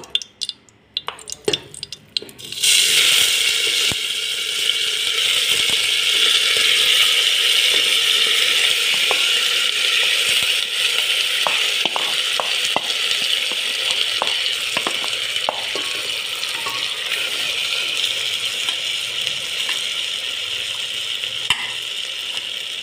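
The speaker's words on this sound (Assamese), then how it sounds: "ঘিখিনিতে ডালিয়াখিনি ধুনীয়াকৈ ভাজি ল'ব লাগিব" Dalia (broken wheat) frying in ghee gives a steady, loud hiss and sizzle that starts abruptly after a few clicks, with scattered light scraping ticks of stirring throughout.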